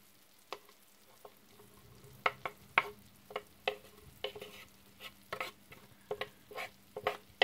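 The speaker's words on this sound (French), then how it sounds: "On va rajouter les cèpes, champignons cèpes de Lozère." Chopped porcini mushrooms from Lozère are stirred into nearly cooked potatoes frying in a pan, giving a soft steady sizzle broken by repeated sharp scrapes and clacks of the utensil, close and alone with no talk.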